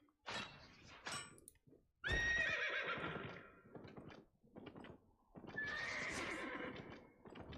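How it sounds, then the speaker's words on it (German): A video game horse whinnies loudly twice with a shrill, wavering neigh, between bursts of snorting and hoof-like thumps; no talking. "Das ist mein Pferd wiehern."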